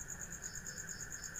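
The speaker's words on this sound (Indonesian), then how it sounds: "banyak kodok yang bunyi-bunyi minta hujan lagi" Frogs calling at night after rain, a steady, high-pitched pulsing trill that repeats evenly and continuously, faint and somewhat distant with no voices.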